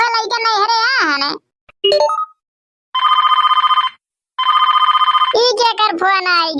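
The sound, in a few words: phone ringing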